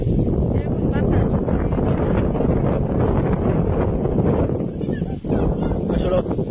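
Strong wind blows beside a marsh in rural Bangladesh, loud and continuous as it buffets the microphone in a rough, roaring rush with only a brief dip near the end.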